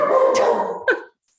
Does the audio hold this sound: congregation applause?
no